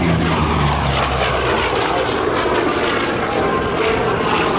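An F4U Corsair fighter with a 2,000 horsepower piston engine roars overhead at an air show, a loud, steady propeller drone that fills the air with no talking.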